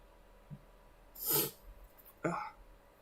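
Person indoors in a dusty room sniffling, one faint short sniff followed by a louder breathy sniff and a second sharp one, close to the microphone with no talking.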